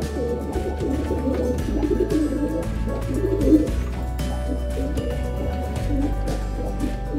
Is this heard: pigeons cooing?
yes